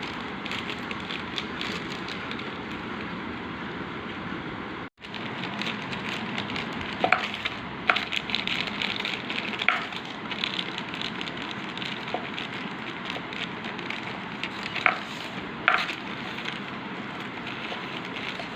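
Rice-flour khichiya papads fry in hot oil and puff up, giving a dense, continuous crackling sizzle with a brief dropout partway through and no voices.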